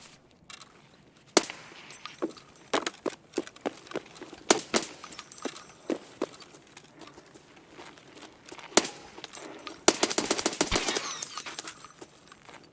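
AUG rifle gunfire in Escape From Tarkov: scattered single shots and short bursts of a close weapon with metallic rattles, then a dense rapid burst near the end, with no talk.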